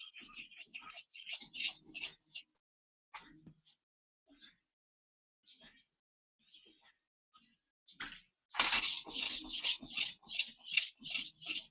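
A worn, chipped blade edge is honed by hand at a set angle, giving repeated scraping strokes in short bursts, sparse and faint at first, then a loud, steady run of rhythmic rubs near the end.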